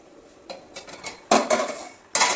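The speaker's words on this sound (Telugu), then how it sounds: "ఇప్పుడు మూతేసి మాగనిద్దాం" A metal lid is set onto a cooking pot on the stove while cucumber-tomato curry is left to simmer; a few light clinks build to two loud clattering knocks of metal cookware, close by, with no talk.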